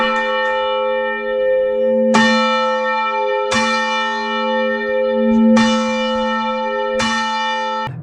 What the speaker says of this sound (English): I went up into the bell tower and got some video footage of the bell ringing